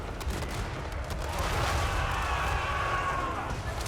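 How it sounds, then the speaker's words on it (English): Dwarf cannons fire in a Total War: Warhammer 3 battle, a dense fusillade of booming shots over a continuous battlefield din, with a voice talking over the gunfire. "the Hydra will break due to a sheer amount of fire from our cannons"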